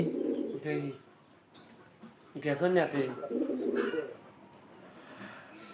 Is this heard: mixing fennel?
no